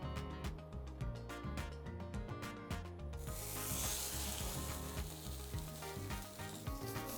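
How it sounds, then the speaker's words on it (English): Tuna searing in olive oil in a stainless steel pan, a quiet close hiss rising into a steady sizzle after a run of soft rhythmic scraping and tapping. "when you are pan searing tuna"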